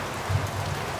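Steady rain falling outdoors in the Philippines, a continuous soft hiss with no distinct drops standing out, brief and unbroken.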